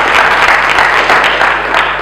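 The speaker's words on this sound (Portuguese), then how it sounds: "uma salva de palmas para a Catarina." Loud, dense audience applause filling a conference hall, a sustained wash of many hands clapping close by with no pauses.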